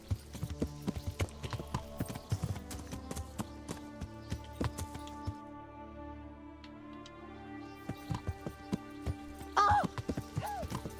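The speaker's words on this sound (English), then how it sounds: "I'm the one who's riding the horse right here" Horse hooves clip-clop steadily while riding in a video game, a regular rhythmic trot over a backdrop of game music, with a brief whinny near the end.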